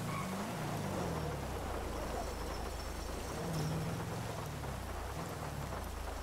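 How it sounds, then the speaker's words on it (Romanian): Steady rain in FiveM, a multiplayer mod of GTA V, a continuous hiss of falling drops with low thunder-like rumble underneath, soft and constant throughout with faint voices in the background. "Cred că e de la ploaia, de la tine, că la mine nu e nicio ploaie."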